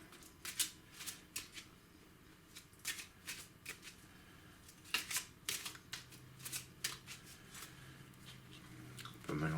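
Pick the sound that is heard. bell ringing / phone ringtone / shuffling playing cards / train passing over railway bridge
shuffling playing cards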